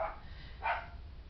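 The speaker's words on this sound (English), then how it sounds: "sorry about the dogs" A dog barks twice, short and somewhat distant, over a low background hum in an indoor room.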